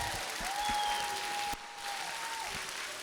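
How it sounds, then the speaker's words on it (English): An audience at a live quiz event claps for two contestants, a steady moderate wash of applause running throughout with a brief dip midway, alone without talk. "Everyone give it a round of applause to Brooke and JD."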